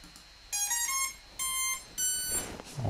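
FPV drone ESC sounding its startup beeps after a fresh firmware flash: three short bursts of bright, clean electronic tones, each a quick rising run of notes, with soft background hiss.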